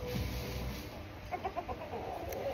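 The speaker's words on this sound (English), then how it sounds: "We have 7 roosters here." A rooster clucks a few soft, quick notes partway through, fairly distant over steady outdoor noise and a low rumble.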